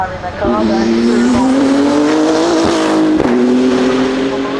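A race car drives through the course at the Goodwood Festival of Speed, its engine note loud and close, rising and shifting as it accelerates past, with a brief tire squeal and crowd noise underneath.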